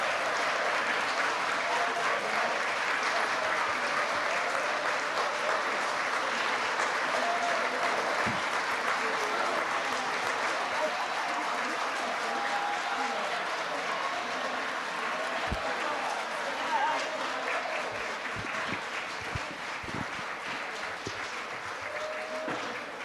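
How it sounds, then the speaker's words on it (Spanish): Sustained audience applause at a city council meeting welcoming new council member Bernard Parks, steady and dense clapping from a large crowd throughout, with no break. "Un aplauso, por favor."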